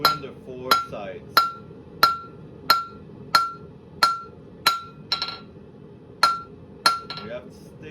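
A blacksmith's hammer forges a steel taper into an octagon, point first, on an anvil: a steady run of about a dozen sharp ringing strikes, roughly every half second, close and loud, with a little talk between blows.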